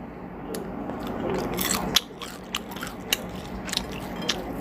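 Someone bites and chews a pan-fried corn pancake topped with melted cheddar, producing a few close, sharp crunchy bites followed by softer chewing, with no talking.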